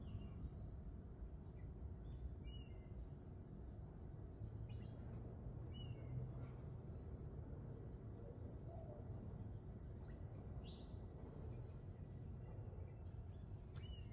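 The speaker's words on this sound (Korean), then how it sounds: "마지막은 새소리 한번 들어보세요." Faint, scattered bird chirps and short calls rise over a steady outdoor hiss, distant and irregular, with no voices.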